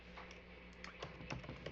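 Quick typing on a laptop keyboard, a short run of faint, irregular key taps close by over a quiet room hum.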